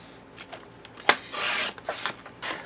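Card stock being cut to size for a stamped background, giving a few quiet rasping snips and slides of the blade through the paper, with sharp short strokes and one longer swish, close and alone.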